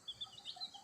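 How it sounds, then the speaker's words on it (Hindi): A small, sickly chick of a pedigree Aseel chicken gives a few faint, high chirping peeps spaced across a quiet moment, with no talking. "एक हमारा है छोटा चूज़ा मुर्गी का"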